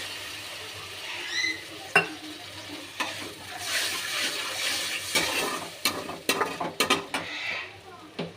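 Masala sautéing in a pan before shrimp go in, a close sizzle under the irregular scrape and clink of a spoon stirring against the metal, with a few sharper knocks near the end.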